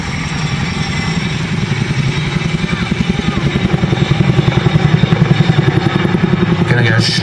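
Close, loud rotor chop from a Chinook twin-rotor helicopter performing at an airshow display, a steady thudding beat building slightly as it manoeuvres, with someone commentating over it.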